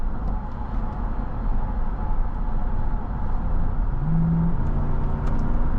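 The V8 engine of a 2019 Lexus GX 460 Luxury SUV hums and builds as it accelerates, a steady low drone that rises slightly over several seconds, heard from inside the cabin with road rumble and no talking.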